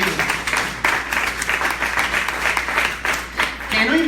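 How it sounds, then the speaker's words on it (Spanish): A church congregation applauds at a service, a dense wash of many hands clapping steadily throughout with a few louder bursts, a voice briefly rising near the end. "Yo creo que se merece un aplauso serio"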